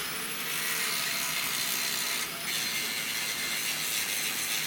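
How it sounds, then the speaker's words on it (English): Steady, harsh hiss of an abrasive grinder working scale off the surface of a hand-forged Damascus steel bar, continuous and fairly close with a brief dip near the middle, no voices. "Now we're going to grind this back surface so there's no scale on it anymore"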